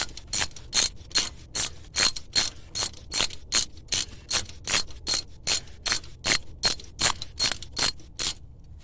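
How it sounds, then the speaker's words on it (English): A ratchet wrench backs out a 10mm bolt holding the brake hose bracket on a 2004 GMC/Chevy 1500 truck, making a long run of crisp, rapid clicking bursts in a steady back-and-forth rhythm, close and clear, with no talking. "you got one 10mm bolt here that's got to come off and out of the way"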